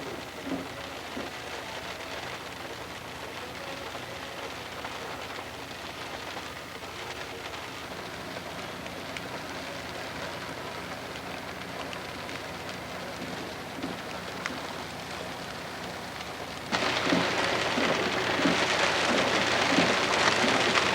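Heavy rain pouring steadily in wet weather between Burnt Pond and Burgeo, a dense continuous wash of drops that swells louder near the end, with no voices over it.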